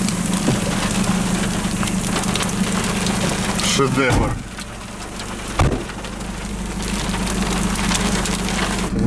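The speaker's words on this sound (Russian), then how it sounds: "Град такой прикольный." Hail patters steadily and densely on surfaces in early May, with a low engine idling underneath. A person speaks briefly partway through.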